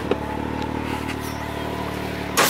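A rebuilt Can-Am Maverick X3 side-by-side drives slowly, its engine a steady low hum with a faint rattle. A brief clatter sounds near the end.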